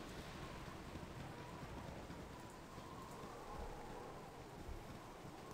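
Steady rain falls in the video game Baldur's Gate, a constant even wash with a low rumble underneath, heard alone without talk for several seconds.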